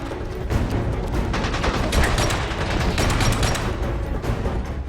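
Heavy gunfire in the video game 007: Blood Stone, a dense, continuous barrage of loud automatic shots and bursts rattling close up for the whole stretch, with no talking.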